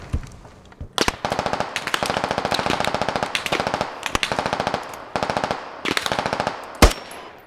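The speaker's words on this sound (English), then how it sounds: "That machine gun is coming from direct east, like 90, 91." Machine gun fire in the military shooter Squad, long loud bursts of rapid evenly spaced shots broken by short pauses, close and dominant throughout with a sharp crack near the end.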